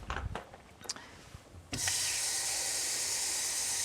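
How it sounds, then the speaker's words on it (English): Water is poured into a hot pot of tomato soup made with canned tomatoes: a few soft knocks and taps, then a sudden loud, steady hissing rush that carries on to the end. "We're going to put in also 2 cups of water"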